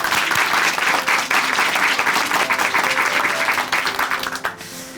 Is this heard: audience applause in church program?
yes